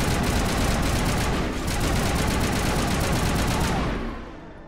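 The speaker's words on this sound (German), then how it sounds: "Wir schießen gerade beide." Rapid automatic gunfire in Mass Effect roars continuously in loud, dense bursts, the sustained shooting filling the clip before tapering off near the end.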